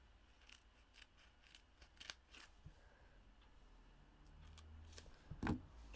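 Scissors trimming a fine piece of paper card for a handmade greeting card: a few quiet, close snips spread over a faint background, with one sharper cut near the end.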